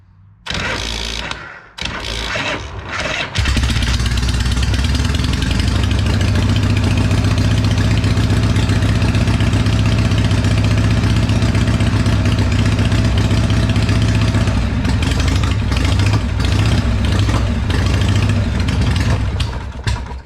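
A Shovelhead motorcycle engine that has sat unused for a while cranks over, then fires and settles into a loud, steady, lumpy idle close by that runs continuously to the end.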